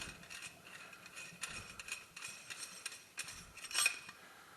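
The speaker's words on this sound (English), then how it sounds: "So I'm loosening the tightening ring for the drain." A tightening ring being loosened on a laundry sink drain makes faint, irregular metallic clicks and scraping ratchet-like taps, close by with no voices.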